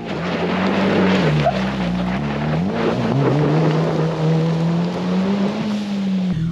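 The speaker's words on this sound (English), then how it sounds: "you'll be able to get exhaust clips of both engines so you can see exactly how good this exhaust is gonna end up" A Ford Bronco's 2.3-liter engine idles through its exhaust and then revs in a loud, steady, droning run, with the note rising and settling again close to the microphone.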